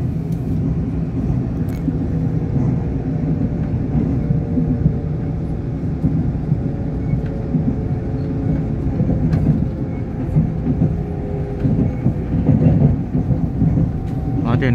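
A TEMU2000 Puyuma express train on the Hualien–Taitung line rolls past with a continuous low rumble and rail noise, steady and fairly loud throughout, with faint clanks over the drone.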